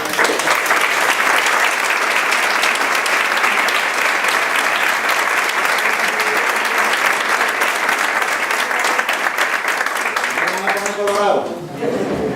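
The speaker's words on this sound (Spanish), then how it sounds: "con este caluroso aplauso con el que te damos" Warm, loud applause from an audience at a flamenco evening in Algeciras, dense sustained clapping that carries on for about eleven seconds before fading, with a voice starting to speak at the end.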